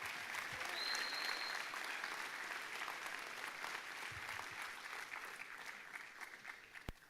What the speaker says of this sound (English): Let's give them a quick round of applause here.